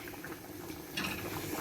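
A pot of meat with tomato and spice mixture simmers for palm nut banga soup, giving a soft, quiet bubbling and gurgling that grows slightly livelier near the end.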